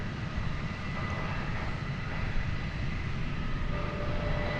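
A distant aircraft engine winds down at DFW airport, heard from more than a mile away near the UPS cargo facility, with an MD-11 in view. A steady broadband roar carries faint high tonal whines and holds at an even level throughout.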